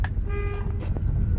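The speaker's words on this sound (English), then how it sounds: "here's my regular horn." A 1973 Dodge sounds its stock car horn: one short, thin honk of about half a second, close and moderately loud over a low engine rumble.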